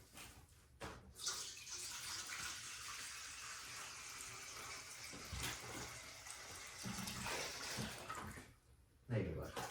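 Tap water runs steadily into a dog's water bowl, a broad continuous splashing rush lasting several seconds and then cutting off, with a few brief knocks at either end.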